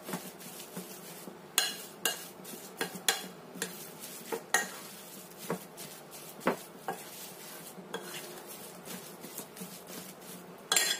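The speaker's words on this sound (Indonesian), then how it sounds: "Aduk sampai semuanya tercampur rata." A snack mixture with wood ear mushrooms is stirred in a bowl, giving repeated scraping and knocking strokes at an irregular rhythm, close and fairly quiet with no talking.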